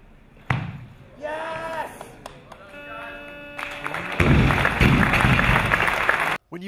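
A weightlifting crowd at a competition roars and applauds as a British snatch record falls, the cheering rising into a loud, sustained wave after earlier thuds and voices.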